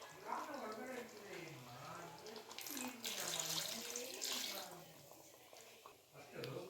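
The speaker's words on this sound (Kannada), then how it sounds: "ಮಿಕ್ಸಿ ಜಾರ್ಗೆ ಸ್ವಲ್ಪ ನೀರು ಹಾಕ್ಕೊಂಡು ಇದರಲ್ಲಿ ಹಾಕೊಂಬಿಡೋಣ." Water is poured into a mixer jar in a home kitchen during chicken masala cooking, a continuous splashing trickle heard under a voice talking throughout.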